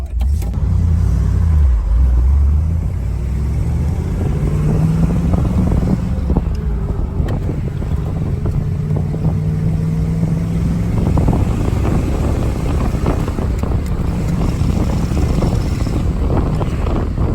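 A 1961 Chevrolet Corvette with a four-speed manual on the road, its engine rumbling steadily and loudly from inside the car over several gear changes, mixed with strong wind and road noise, with no talking.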